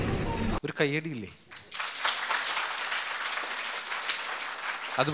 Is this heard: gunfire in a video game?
no